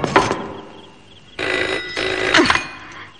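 Two bursts of an old-style telephone bell ringing loud and close, a short ring then a longer double ring after a pause, with no talk over it.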